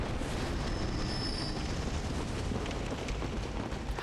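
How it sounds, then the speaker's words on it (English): Cannon fire and explosions in the video game Bloodborne: a dense, continuous roar of blasts and rumble, loud and low-heavy, with no talk over it. "Oh, there's cannons."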